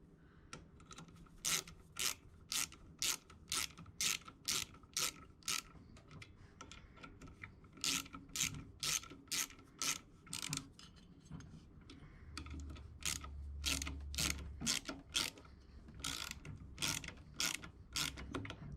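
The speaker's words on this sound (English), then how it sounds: "There's got to be a trick to getting these tight or torquing them." A ratchet tightens bolts on the clutch of a 1977 Batavus VA50 moped with a Laura M48 engine. Rapid close clicking bursts come in repeated runs separated by short pauses, and a low rumble rises toward the end.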